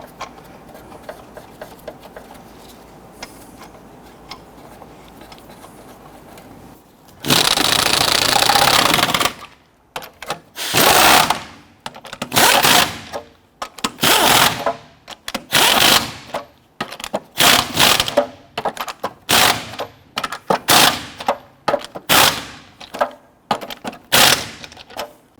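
Power tool snugging lug nuts onto a Honda Ridgeline wheel, loud sharp rattling bursts in rapid, irregular succession after a quieter stretch, one long continuous burst first, then many short hammering pulses.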